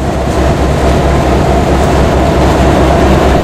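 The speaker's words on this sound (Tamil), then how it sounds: "சுனாமி அனர்த்தத்திற்கு முகம் கொடுத்த ரயில் என்ஜினுடன் ரயில் வண்டி காலை 6:25 மருதானையிலிருந்து பயணித்தது." A train hauled by the engine that survived the tsunami departs Maradana in the early morning, a loud, steady rumble with rhythmic low-frequency pulsing like wheels on rails, continuous throughout with no speech.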